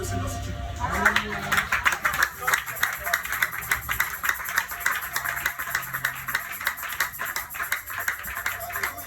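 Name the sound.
congregation clapping to acclaim the Lord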